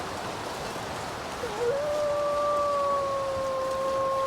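Wolf howl from the video game The Long Dark, a single long rising tone that settles into a sustained steady pitch, heard over constant rushing wind, fairly clear but not close.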